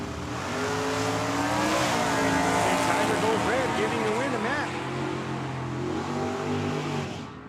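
Drag racing cars launch at Tucson Dragway during a Cactus Clash event, with loud engine roar and rising revs filling the air as an announcer talks over the racket.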